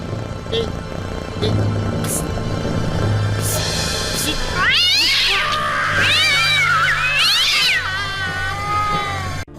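A cat lets out loud, drawn-out meows that rise into wavering caterwauls, close and sustained over several seconds after a quieter stretch with some talk.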